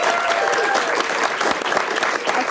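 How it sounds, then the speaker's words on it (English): Audience applause for a guest on a live comedy show, a steady dense clapping from a full room that holds at an even level for the whole stretch. "please thank Sam Wilson"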